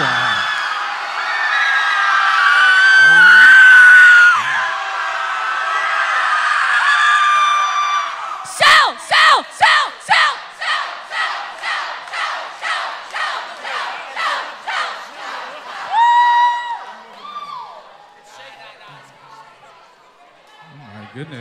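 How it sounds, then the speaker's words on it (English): A crowd at a high school gauntlet event screams as loudly as it can, building into a roaring wall of yelling for several seconds. Rhythmic chanting bursts follow, then the noise fades out. "I need you to scream like you've never screamed before, as much noise as you can possibly make."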